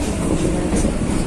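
A train rumbles past nearby, a loud, dense roar with a low, rolling rattle and no talk, heard over a short stretch.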